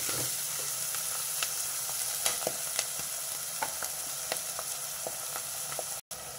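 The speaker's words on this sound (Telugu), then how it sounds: "ఈ మెంతికూర కొంచెం నూనెలో వేగితే చేదు అనేది రాదు. దీన్ని కాసేపు వేగనివ్వాలి." Fenugreek leaves frying in oil for a broad bean curry, a steady soft sizzle with scattered light crackles and occasional stirring ticks, no voices.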